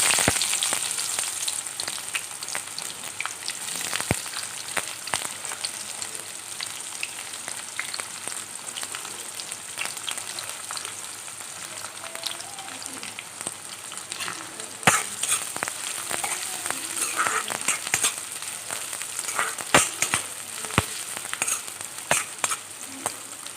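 Chopped onions frying in hot oil with whole cumin seeds in a home kitchen: a continuous, even sizzle with occasional sharp crackles and faint spatula scrapes, close and steady.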